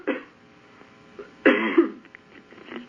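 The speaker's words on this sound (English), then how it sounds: "I need to cough." A person coughs during a conversation, with one short burst near the start and a louder, rougher cough partway through, close and clear, followed by faint throat noises.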